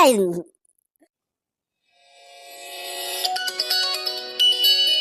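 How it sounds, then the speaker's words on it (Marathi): A phone ringtone rises from silence and keeps ringing loudly, following a brief voice at the start. "कोणाचा फोन आला रे"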